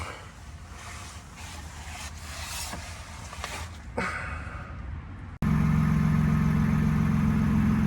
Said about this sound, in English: I hear more engine noise than anything right here.